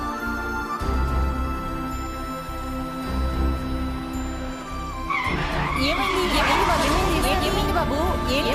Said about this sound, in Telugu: సడన్ బ్రేక్ వేశారు